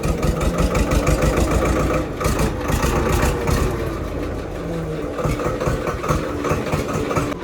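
A tractor engine idles just after starting, a loud, close, steady rhythmic chugging that dips slightly midway, then carries on evenly.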